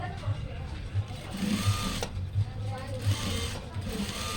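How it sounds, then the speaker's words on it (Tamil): A sewing machine stitches a doctor's coat in thick fabric, its needle running in a steady rapid rhythm with brief pulses of motor whir, close and moderately loud, while someone talks over it. "ஒரு 3/4 இன்ச்சு அகலத்துக்கு வச்சுட்டு நம்ம வந்து தையல் போட்டாச்சு."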